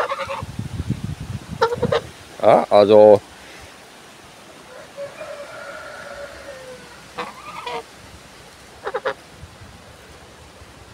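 Tame geese on a windy Hungarian smallholding give a few loud honks in short bursts, close by, between stretches of wind noise and brief talk.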